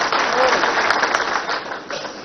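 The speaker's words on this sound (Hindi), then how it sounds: "हमारी अपनी सरकार के लिए जोरदार ताली माननीय मोदी जी के लिए बजाएं" An audience at a Chief Minister's event breaks into sustained clapping, a dense, steady wash of applause that stays loud throughout with no voices over it.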